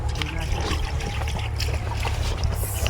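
Water trickles and drips steadily while someone bathes, a continuous wet splashing close by with faint voices mixed in.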